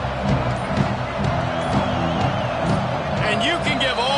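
Roaring stadium crowd noise during a college football game in the video game NCAA Football 25, a dense continuous din with scattered shouts and cheers. Commentary voices run over it.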